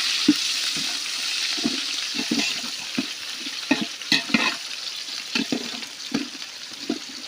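Onions fry in oil with cardamom and cinnamon for a chicken gravy, a steady close sizzle punctuated by repeated scraping stirs of a spatula through the pan.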